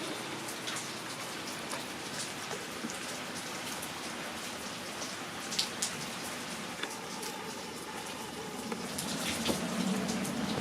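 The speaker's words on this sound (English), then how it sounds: "It's raining still." Rain falls steadily in a backyard as a soft, constant hiss of drops with occasional sharper drips, moderately distant and without talk.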